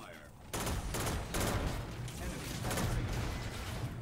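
Shotgun fire in the video game Battlefield 2042 comes as a few loud, close blasts over dense game noise and ongoing combat sounds.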